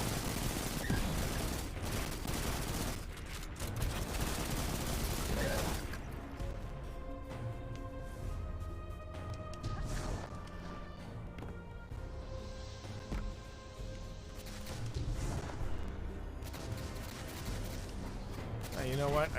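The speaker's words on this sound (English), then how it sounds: "Getting plenty of bullet sprays." Rapid gunfire bursts from the video game Destiny 2, loud and dense at first, then continuing under sustained game music and effects with repeated sharp volleys throughout.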